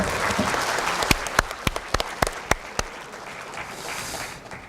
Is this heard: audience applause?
yes